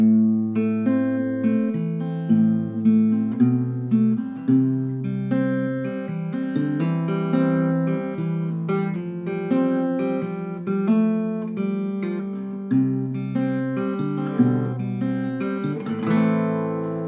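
An acoustic guitar plays chords slowly and evenly, each strum ringing out clearly up close, with no one speaking.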